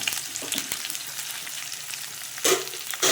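Half a kilo of okra frying in a pan with onion and garlic cloves, a continuous bright sizzle with a couple of louder crackling surges near the end, no voices.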